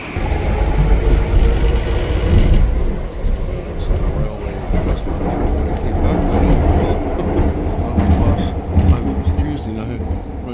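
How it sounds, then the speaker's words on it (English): A train rumbles in and rolls past with a heavy low roar and rattling wheels, while people talk nearby. "There's the train finally."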